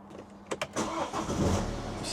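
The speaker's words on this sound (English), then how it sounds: "Start the car up." A car engine cranks with a couple of short bursts, then catches and settles into a steady idle close by, with no talking.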